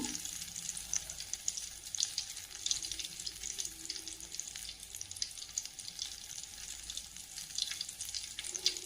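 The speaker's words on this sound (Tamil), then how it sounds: "இப்போ இது போலவே எல்லா உருண்டைகளையும் நம்ம பொரிச்சு எடுத்துக்கலாம்." Suiyam sweet dough balls deep-fry in hot oil with a continuous, dense crackling sizzle, steady and close for the whole stretch, with no voices.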